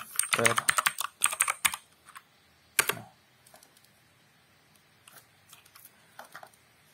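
Bursts of rapid typing on a computer keyboard while entering Bash shell commands in a terminal, dense clattering runs of keystrokes followed by sparser isolated taps, close and fairly loud.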